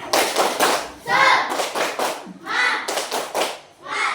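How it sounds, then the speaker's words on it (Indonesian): A school class claps a quick rhythmic pattern in bursts, close and lively, with some voices chanting along between the claps. "Ibu mau minta tepuk semangat."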